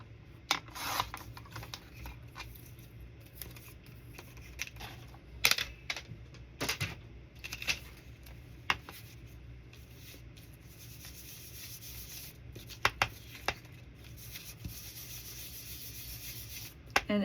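Scissors trimming the bottom of a handmade winter craft gnome, with faint, irregular snips and rubbing close by in a quiet room.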